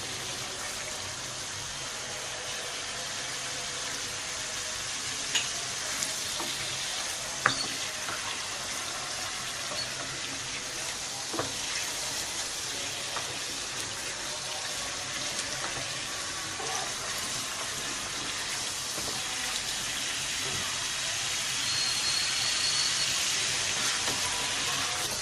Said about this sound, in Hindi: अब अच्छी तरह इसकी भुनाई करेंगे।